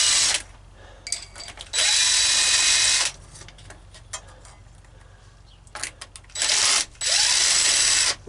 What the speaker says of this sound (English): Watch out when you use impacts